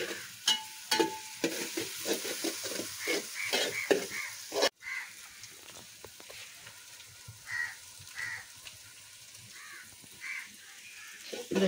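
Onions frying and sizzling in a pan on a home stove, with a steady hiss broken by repeated scraping and stirring strokes, busier at first and then settling into a quieter sizzle with occasional stirs.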